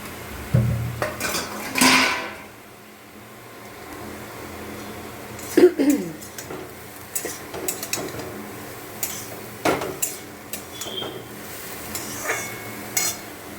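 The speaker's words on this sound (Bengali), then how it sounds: "সমস্ত মশলাগুলো দিয়ে থোড়টা আমি ভাজতে দিয়েছি।" Banana stem frying with spices in a pan, punctuated by clanks of a metal lid and utensils, bursts of scraping and stirring, and quieter rattling stretches between them.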